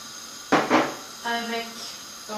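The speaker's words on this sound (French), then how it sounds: "Maintenant, je vais mettre mon huile de palme." Palm oil hits a hot pan while cooking red beans, giving two quick bursts of sizzling hiss followed by a softer steady crackle, with a voice speaking in French around it.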